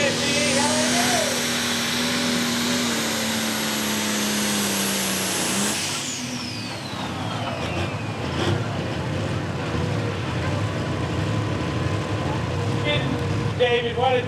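A pulling truck's engine screams at high revs during a tractor pull run at Lumberton, North Carolina, a loud sustained whine that holds for several seconds then drops away into a rougher rumble and crowd noise, with people talking.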